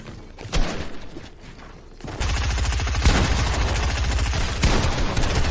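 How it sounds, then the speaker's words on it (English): Rapid gunfire crackles in a Fortnite zone wars match, dense bursts of close automatic shots rattling almost without pause after a brief quieter lead-in. "They're shooting people down."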